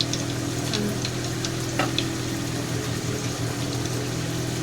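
Mustard seeds sizzling in hot tempering oil for coconut chutney, a steady dense frying hiss with faint crackles and pops, close and continuous, with no talking.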